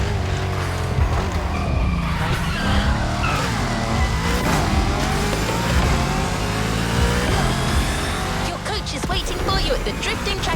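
Drifting car in the racing video game The Crew Motorfest on a festival drift track, engine roaring steadily with tire squeal and skidding throughout, loud and continuous, with game music or effects layered over it.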